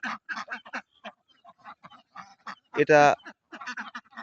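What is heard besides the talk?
ducks quacking on a duck farm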